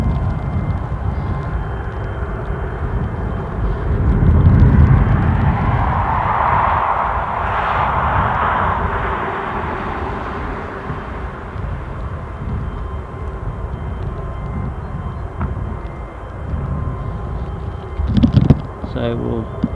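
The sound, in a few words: Lufthansa Regional Embraer 190 aircraft at Newcastle airport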